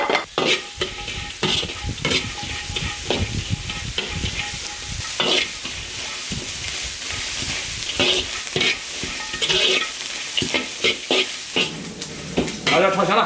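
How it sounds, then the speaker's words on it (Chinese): Chili peppers stir-fried in a hot iron wok, with steady sizzling and repeated scraping, clattering strokes of a spatula against the metal, loud and close throughout. "辣椒直接下锅炒。"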